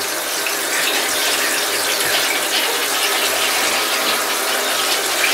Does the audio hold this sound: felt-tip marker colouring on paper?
no